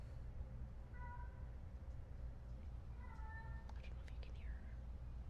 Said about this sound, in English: And Sophie's meowing.